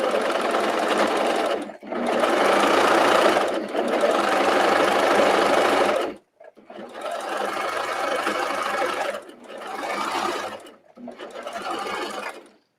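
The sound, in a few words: sewing machine sewing a knit top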